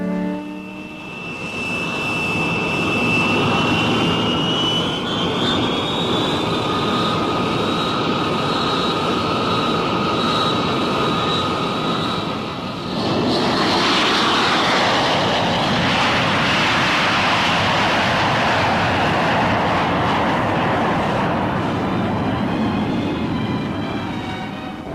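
An F-102 Delta Dagger jet interceptor of the Hawaii Air National Guard roars steadily, with a high whine rising in pitch before a broad, loud jet rush takes over, continuous and without talking.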